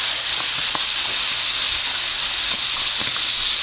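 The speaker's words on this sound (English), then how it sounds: "you can see it's starting to sizzle there" Onion and garlic sizzling in a pan alongside meat, a loud, steady broadband hiss of frying that runs continuously, with faint scattered pops and clicks beneath it.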